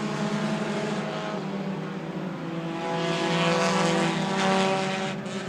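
Hornet-class race cars roar around an oval track in a loud, continuous engine drone, several cars close together, the pitch swelling and fading slightly as they pass, with no talk over it.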